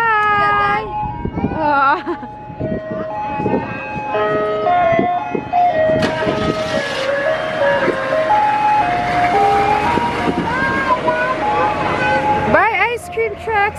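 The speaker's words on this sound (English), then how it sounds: "Say bye, ice cream truck." Ice cream truck jingle plays loud and close, its melody carrying over a steady engine rumble with children and an adult talking throughout.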